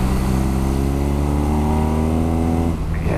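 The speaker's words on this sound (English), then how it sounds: "Yeah, that motor sounds nice." BMW R NineT motorcycle engine pulling hard under acceleration, a loud, steady close-up drone with rising harmonics as revs climb, then a brief dip near the end as the rider shifts.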